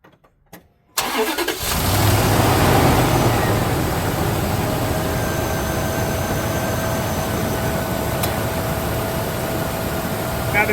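A tow vehicle used for trailer road trips cranks and fires after a second of near silence, then settles into a steady, loud idle that runs on alone.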